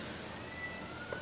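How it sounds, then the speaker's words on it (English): A cat cries once, faint and distant, a brief high meow rising out of a low steady background hum near the end. "Sorry about the cat in the background."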